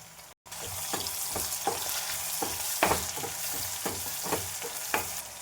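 Garlic paste and tomato sizzle hard in a hot pan, with a steady frying hiss broken by regular soft scraping taps of stirring, close and without voices.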